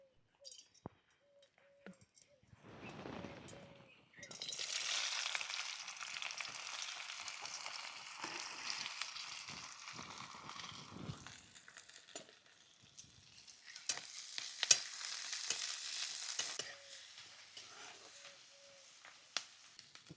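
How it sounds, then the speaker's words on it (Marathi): Onion goes into hot oil and a loud sizzle bursts out nearby, then settles into a long steady crackle, with clinks and stirring scrapes. A second surge of hissing comes near the end. "तेल चांगलं गरम झालं की कांदा त्यात टाकायचा."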